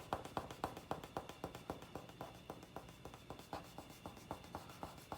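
Pencil drawing of a half portrait being smudged with a paper towel: steady, rhythmic rubbing strokes on paper, about four per second, close and fairly quiet, with no talking.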